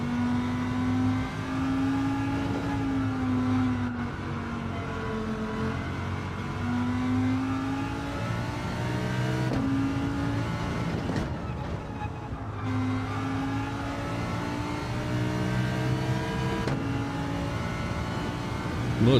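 A race car engine in a racing video game time trial, revving high and dropping through gear changes in repeated rising and falling sweeps, steady and fairly loud throughout with no talking.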